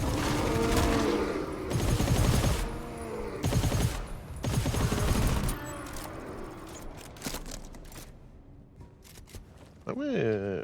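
Carbine gunfire in the video game GTFO, loud rapid bursts of shots in several volleys with brief gaps, tapering into scattered lighter shots, with voices talking over the action.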